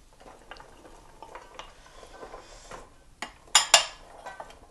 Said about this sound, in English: we're going to add them into this pot over here, which we've melted some coconut oil